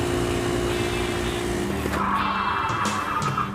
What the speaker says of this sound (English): Hello, LA rush hour traffic.